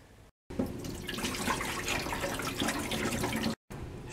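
Running tap water pours steadily over common milkweed pods being rinsed in a sink, a continuous splashing hiss that starts and stops abruptly, close and alone.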